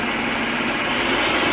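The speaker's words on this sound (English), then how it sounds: "I have put the chopping blade in and in the low mode." A Ninja NF701 food processor runs its chopping blade on the low setting, a loud, steady motor whir with a broad hiss that holds evenly throughout, close to the mic and without speech.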